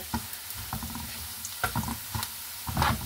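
Dried fish (shutki) frying with onion in a pan, sizzling softly with spatula stirring scrapes and light clinks in an irregular rhythm, close and moderately loud, with no one talking.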